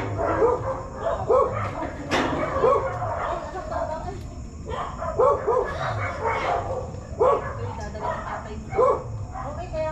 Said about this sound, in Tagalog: At parang may aso.